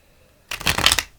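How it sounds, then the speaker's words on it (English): Tarot cards being shuffled, a short, dense riffle of card edges that starts suddenly after a brief quiet and runs for about half a second, close and clear. "I'm going to do one more shuffle"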